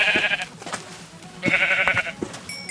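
Sheep in Minecraft bleat twice in short wavering calls about a second apart, close and clear, with a few soft game clicks around them.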